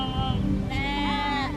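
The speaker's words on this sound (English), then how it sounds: "White sheep," Sheep on a farm in Sangti Valley near Tawang bleat loudly and close by, with a couple of wavering, drawn-out calls over a steady background.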